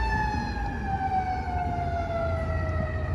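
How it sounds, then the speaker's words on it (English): Emergency vehicle sirens wail steadily on a New York City street, a loud, continuous rising-and-falling tone layered over a low rumble of traffic, with no voices. "You guys love the sirens in New York City, man."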